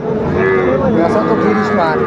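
A young bull calf moos in drawn-out, wavering calls at the crowded Aftabganj cattle market, close and loud, with traders' voices and market chatter around it.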